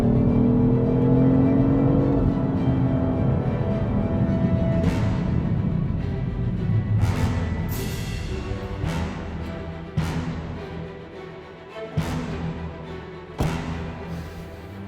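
A BMW M3 and a Mercedes on a mountain pass, with an engine droning and revving steadily, then a series of sharp gear shifts and surges as the car accelerates nearby.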